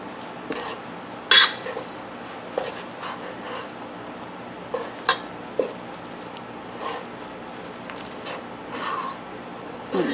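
Carrot fritter batter is stirred with three large eggs in a bowl, giving soft, intermittent scraping and light clicks of the utensil against the bowl at an uneven pace, fairly quiet, with no talking.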